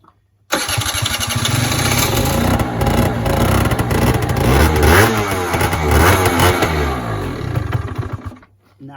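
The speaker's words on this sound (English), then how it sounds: "I'll just show you a cold start" A Peugeot Speedfight 4 scooter engine cold-starts with the manual choke on, catching abruptly and running loudly and steadily with uneven revving before cutting out near the end.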